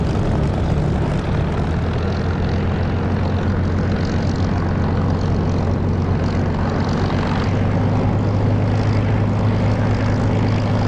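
A propeller aircraft taxis in the DCS flight simulator, its engine droning steadily and evenly with a low rumbling hum that holds the whole time, and no speech over it.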